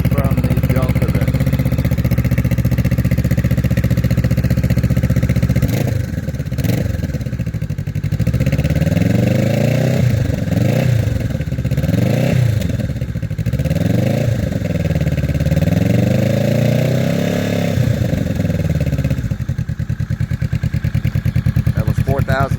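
A Kawasaki Vulcan S motorcycle fitted with a Musarri exhaust idles with a deep, steady rumble, then revs repeatedly in rising and falling sweeps before settling back, loud and close.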